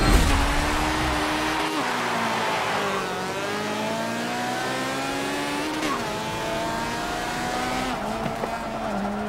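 A racing car in Forza howls through rising and falling gear changes, its engine revving hard and near for the whole stretch, with brief tire noise between shifts.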